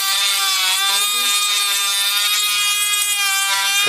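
A handheld Dremel rotary tool runs at steady high speed, a loud, continuous whine with bright overtones sustained for about four seconds, no speech over it.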